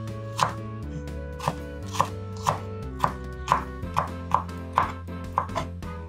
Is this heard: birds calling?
no